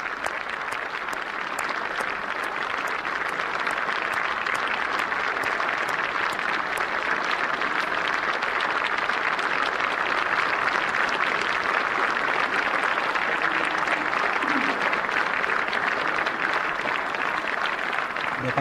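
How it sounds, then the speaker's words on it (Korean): Members of the National Assembly stand and applaud a president's entrance, a long unbroken roar of clapping from a large chamber that stays level and dense for the whole stretch. "국회의원 전원이 기립을 해서 지금 박수로 박근혜 대통령의 입장을 환영하고 있습니다."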